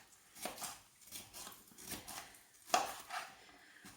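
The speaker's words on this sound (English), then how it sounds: "I'm just going to chop the pepper up now. I'm going to dice it." A knife dicing a washed, deseeded pepper on a chopping board, a steady run of about eight close, soft knocks spaced roughly half a second apart, with a brief word spoken.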